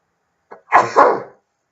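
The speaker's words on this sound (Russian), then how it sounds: "Почихивание на камеру." A person sneezes on camera, loud and close: a brief intake breath, then a forceful two-part sneeze burst in quick succession, alone in silence.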